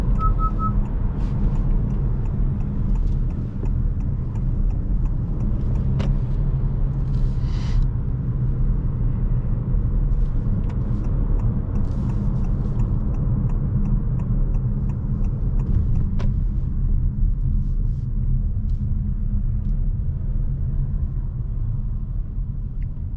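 Interior of a 2022 Honda HR-V 1.5 e:HEV hybrid on the road, a steady low rumble of road and drivetrain noise with faint whistling, continuous and even, with no talking.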